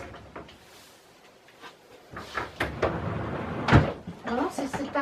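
A sticking wardrobe door in a dressing room is opened with creaks, knocks and scraping thuds while people talk over it.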